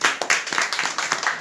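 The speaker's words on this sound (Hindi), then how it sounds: "एक बार इनके लिए जोरदार तालियां।" Audience clapping at a mobile franchise shop opening, close, uneven individual claps of a small group in quick irregular rhythm.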